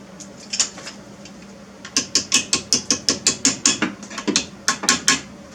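A ratchet tightens strut nuts on a 1990 Toyota Camry, with a few clicks followed by a fast, even run of about fifteen sharp metallic clicks close up, briefly pausing before a final burst of clicks.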